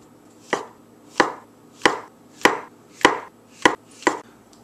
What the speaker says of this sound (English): using our sharp chef knife, we're going to make a slicing action forward and down